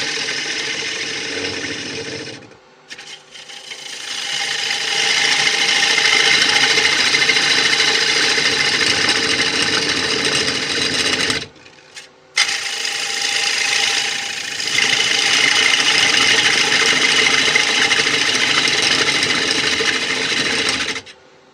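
A wood lathe turning a large mountain ash bowl with a gouge, a loud continuous cutting hiss and motor drone broken by two brief pauses where the tool lifts off.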